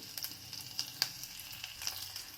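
Soft, quiet crackle and sizzle of mustard seeds, chana dal, chopped ginger and curry leaves frying in ghee in a pressure cooker, with scattered sharp pops over a faint hiss.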